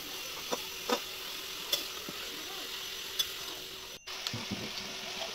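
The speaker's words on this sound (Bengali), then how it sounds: "এবারে ওই তেলে আমি এঁচোড়টা দিয়ে নিয়েছি, এবার এঁচোড়টাকে ভালো করে ভেজে নেব।" Young jackfruit fries in hot oil with a soft, steady sizzle, faint and close, broken by light ticks and stirring clatters.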